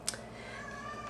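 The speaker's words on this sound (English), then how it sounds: "That is my cat." A male cat meows once, brief and fairly close, in a quiet indoor room during a makeup product roundup, followed by a steady low background hum.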